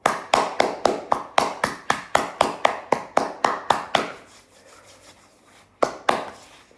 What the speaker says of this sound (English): So when you clap, it's grounding work with your hand.